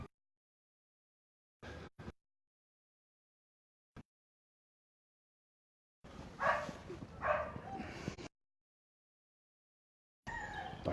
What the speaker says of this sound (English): dog's actually going nuts, isn't it?